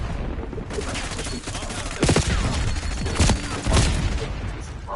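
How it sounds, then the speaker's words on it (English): Bursts of video game gunfire crackle in rapid volleys, several sharp loud shots standing out over a constant busy battle din, with no voices. "we're shooting at it"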